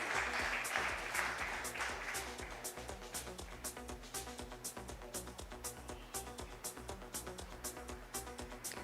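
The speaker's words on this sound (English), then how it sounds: "Let us have a combined round of applause for all the past presidents." A large audience at a formal business federation foundation day gives a combined round of applause for past presidents, steady and continuous but faint and distant, with a musical tone running underneath.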